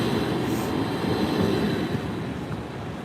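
An Edinburgh tram passes along a city-centre street near the Royal Mile, a steady, fairly loud rolling rumble with hissing wheel noise that fades slightly toward the end.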